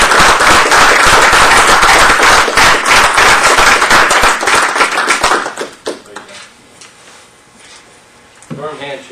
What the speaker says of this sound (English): One more round of applause for our friends.